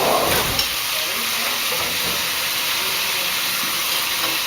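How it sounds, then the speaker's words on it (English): Butter melting into a thick sauce hisses and sizzles steadily in a hot pan, a close, even, broadband frying noise with no talk. "I'm just gonna add about a teaspoon of butter."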